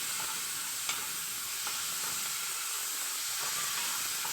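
A rice mixture sautés in a pan, giving a constant bright sizzling hiss with a few faint stirring clicks and no speech.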